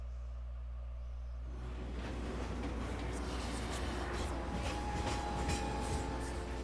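A train rolls along in Final Fantasy VII Remake with a steady, loud rumble and clatter. A low hum comes first, then the rolling noise swells at about one and a half seconds and carries on with faint metallic squeals on top.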